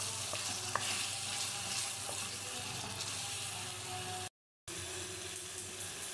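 Bolognese sauce with tomato paste sizzles and bubbles in a pan after half a cup of pasta water is poured in, a steady close frying hiss with faint stirring, briefly cut to silence near the end.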